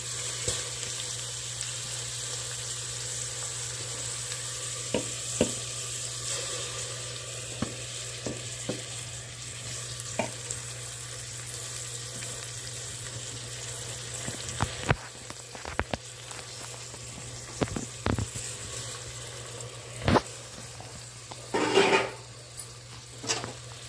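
Rice frying in oil and ghee as part of a festive meal, a steady soft sizzle throughout with occasional sharper clicks of a spoon against the pan near the end, no talking.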